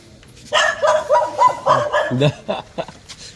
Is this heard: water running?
no